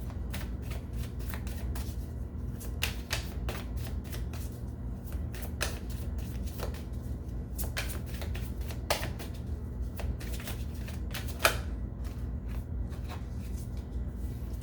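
Tarot cards being handled and drawn from a deck: a continuous run of soft riffling flicks and papery slaps over a low steady hum, close and fairly quiet. No voices.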